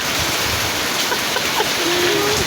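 Heavy rain and wind over paddy fields and coconut trees, a dense steady wash of noise with faint distant sounds briefly over it.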